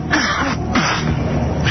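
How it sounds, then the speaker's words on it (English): A few short, breathy bursts of nasal blowing, close and fairly loud, coming in a quick little series with brief pauses between them. "there's a little series of nose blowing as well"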